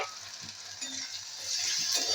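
Chopped tomatoes sizzle in a pan with fried onions for a Bengali fish-roe fritter curry, giving a steady close hiss with soft stirring knocks and no talk.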